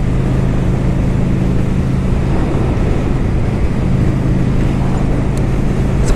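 A 2013 Honda Shadow Phantom 750 motorcycle being ridden, its engine a steady low drone under heavy wind rush, loud and continuous with no speech.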